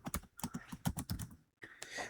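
Keys clatter in quick, uneven bursts on a computer keyboard while GST E-Way Bill details are entered into practical accounting software, with a brief pause before the typing resumes, close and moderately loud.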